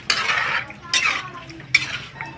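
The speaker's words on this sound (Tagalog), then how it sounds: "Haluin po natin ulit." A spoon stirring chicken tinola in a metal cooking pot, three distinct scraping, clattering strokes against the pot with brief pauses between them, close and fairly loud.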